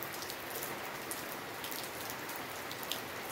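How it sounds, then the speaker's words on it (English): Dense, steady rain pours down, a continuous hiss with scattered drops pattering on a surface nearby. "So it's raining here, cats and dogs"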